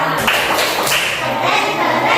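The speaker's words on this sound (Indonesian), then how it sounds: "Beri tepuk keren untuk kelompok ladang" A fourth-grade class claps for a student group after their presentation in a science lesson on magnetic force, a dense, steady patter of many hands filling the room close by, with no clear pauses.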